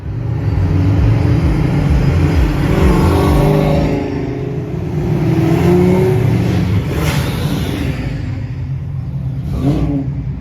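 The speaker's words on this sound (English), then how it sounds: "Mikey's car sounded good there." A Fox body Mustang's engine revs loudly at close range, a steady roaring drone that rises and falls, with rising pitch sweeps as it accelerates.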